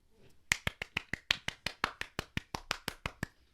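A single person claps steadily about fifteen times in an even rhythm, close and crisp, with a faint murmur before the first clap.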